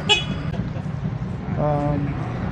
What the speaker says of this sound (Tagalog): So, busina,